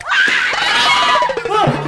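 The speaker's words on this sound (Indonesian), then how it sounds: "Tadi ada apaan sih? Kok pada teriak-teriak?" Loud, shrill screaming from several people in an Indonesian TV drama scene, rising and wavering cries that break into laugh-like yelps toward the end.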